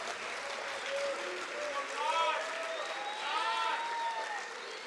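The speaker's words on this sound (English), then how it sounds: "If we could give all of these young men another round of applause for their hard work." A crowd at an evening student speech contest applauds the young male contestants, a fairly soft, sustained patter of clapping with several voices calling and talking over it.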